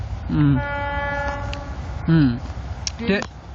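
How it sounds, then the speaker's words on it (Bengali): A train passes close by and sounds a loud horn in three separate blasts over a steady rumble from the rails, with voices heard nearby. "ট্রেনটা চলে যাক"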